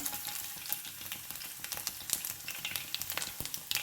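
Crushed garlic hits hot oil with mustard seeds and cumin, setting off a dense, crackling sizzle full of quick pops and spits, close up and continuous, with no voices.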